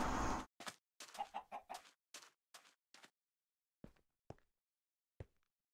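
A chicken in Minecraft gives a quick series of close, choppy clucks, then a few sparse single clucks separated by silence.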